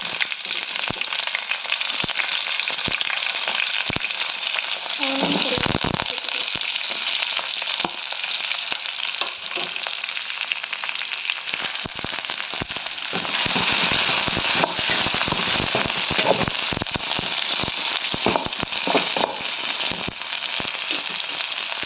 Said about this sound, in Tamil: ஆயில் ஹீட் ஆகிடுச்சு. நம்ம இப்போ கடுகு சேர்த்திக்கலாம். க்ரீன் சில்லி சேர்த்துக்கலாம்.